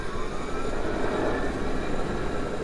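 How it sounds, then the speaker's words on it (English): Helicopter in a Fortnite match, a steady broadband rotor and engine drone holding at even loudness throughout with no pauses, and no talk over it. "Oh, helicopter."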